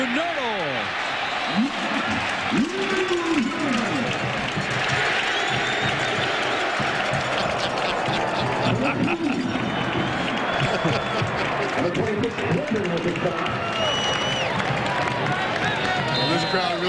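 A stadium crowd at a college football game roars and cheers steadily during a run. The loud, continuous wash of voices and scattered clapping goes on for the whole stretch, with commentary talk running underneath.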